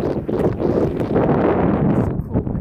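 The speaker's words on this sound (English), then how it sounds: "it's very windy today." Strong wind buffets the microphone on a mountain trail, a loud, continuous low roar with gusty swells that fills the whole stretch, no speech heard.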